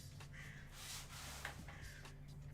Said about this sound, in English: Are those crows outside?